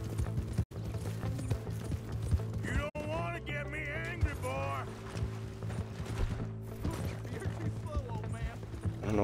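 Rhythmic hoofbeats of a galloping horse clip-clop steadily beneath a low musical drone, with occasional voices and game sounds layered over them, in Red Dead Redemption 2.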